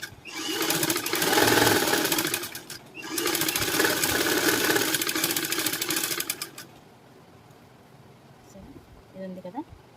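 A sewing machine stitches a high neck blouse in a tailoring class, running in two loud, steady bursts of rapid mechanical whirring with a short pause between, then stopping, leaving quiet room sound and faint talk.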